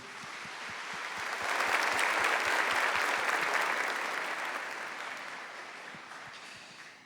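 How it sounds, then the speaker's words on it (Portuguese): Congregation applauding during a church sermon, a steady wash of many hands clapping that swells after a moment, then slowly thins out near the end. "Vamos aplaudir a palavra do Senhor?"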